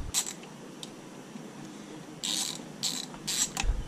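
Ratchet wrench clicking while turning a 10 mm bolt on a BMW M20 cylinder head, a few short bursts of fast ratcheting close by with quiet pauses between, no talk.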